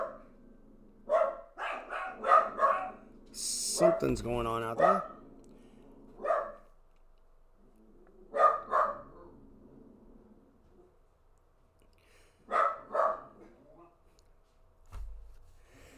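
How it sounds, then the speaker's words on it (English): Pet dogs at home bark in short clustered bursts, several sharp barks at a time, separated by pauses. A person speaks partway through, and there is a brief noisy rustle near the start. "my dogs have decided to start barking"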